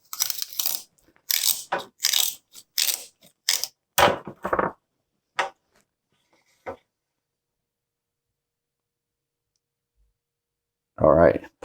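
Tape is pulled and wrapped onto a fishing rod handle under a nylon smooth butt during custom rod building, making a series of short, close ripping and crackling bursts that trail off into silence before one final burst.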